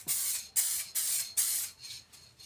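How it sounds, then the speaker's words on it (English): Short spray-can bursts laying a light coat on a Nerf blaster, about six hissing puffs in a steady rhythm, close and clear, the last ones softer. "just a couple of light sprays, just to give it a little coat"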